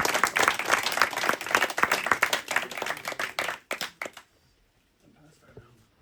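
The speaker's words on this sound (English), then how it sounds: "give Sophie a nice warm round of applause" Warm audience applause at a St Brigid poetry celebration, greeting a singer named Sophie: dense clapping from a seated crowd for about four seconds, thinning to a few last claps before quiet room tone with faint murmuring.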